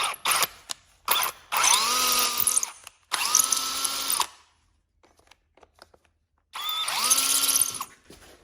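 Power drill driving an 8mm tap to thread bolt holes on a freshly painted John Deere LA145 lawn tractor deck, close whining bursts that rise and settle, three long runs separated by short pauses and faint clicks.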